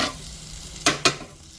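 T-bone steak with marinade on a barbecue, a soft steady sizzle with two sharp louder spits or clatters close together, close up and with no talk.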